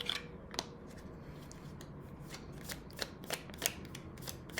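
A deck of love oracle cards is shuffled in a quiet room, giving a series of crisp riffling snaps at an uneven rhythm, close and fairly soft, with no talking.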